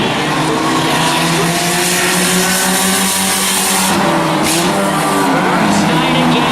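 Loud, continuous roar of several race cars sweeping through a turn at a short oval track, engines blending into a dense sustained howl with a commentator's voice running over it.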